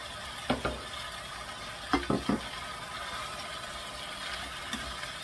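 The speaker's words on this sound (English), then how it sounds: "I'm going to add my marinade now that we reserved earlier. And also the spring onion." Reserved marinade and spring onion going into a pan of frying five spice chicken: a steady close sizzle with a few sharp scrapes and clatters of a spatula against the pan.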